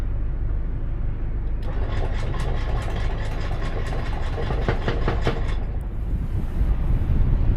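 The engine of a Nordhavn 51 boat runs steadily at anchor, a constant low rumble with a band of brighter hiss through the middle stretch and no talk.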